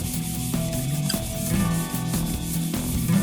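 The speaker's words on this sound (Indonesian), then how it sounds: "Kita amplas untuk meratakan dulu ya. Amplas 100 ini kegunaannya untuk meratakan dulu" Hand sanding of body filler with 100-grit sandpaper, steady close scraping strokes repeating in a rough back-and-forth rhythm, loud and alone.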